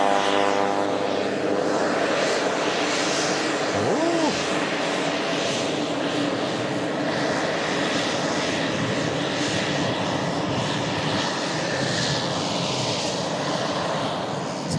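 Airplane engines droning steadily at an airport during plane spotting, a continuous loud broadband roar that fills the whole stretch with little change in level.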